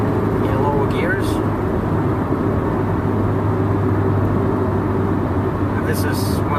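Inside a car with a Spintech Super ProStreet 9000 muffler, a steady loud engine and exhaust drone holds throughout, while someone talks over it.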